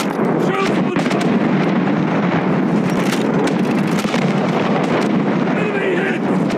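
Warship main guns in War Thunder Mobile, the Admiral Hipper heavy cruiser, firing with shells hitting, a continuous loud roar of blasts and explosions with a voice shouting over it.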